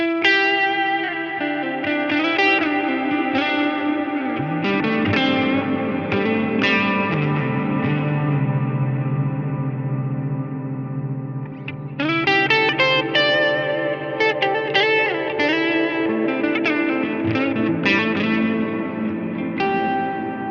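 An electric guitar plays through a Line 6 Helix with huge, washy reverb, a long pre-delay and rolled-off highs. Chords ring and sustain in a lush decaying tail, with no talking.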